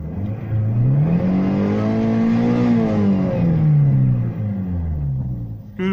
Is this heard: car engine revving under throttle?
yes